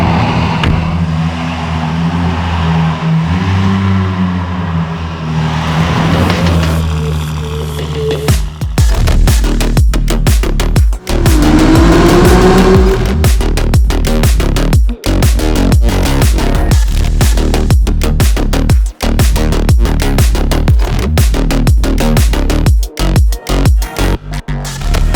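Novitec-tuned Ferrari 296 GTB supercar, 868 hp, revving loudly at close range, with a steady engine drone that builds into a series of sharp, rapid throttle blips and revs continuing throughout, no talking.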